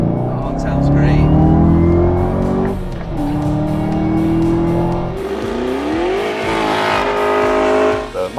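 A 2024 Camaro ZL1 Coupe Collector Edition at full tilt on a race track, its loud V8 climbing and dropping through the gears with rising pitch sweeps and brief tire squeal, close and steady for the whole stretch.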